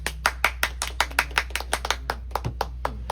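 Applause from a crowd at a political gathering in Haiti, clapping in a fast, irregular run of sharp, close claps over a steady low hum, with no talk.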